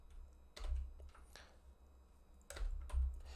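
Computer keys are pressed in two short bursts of typing, quiet and close, separated by a pause, with no one speaking.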